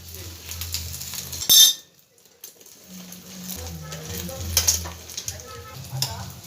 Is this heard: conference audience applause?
no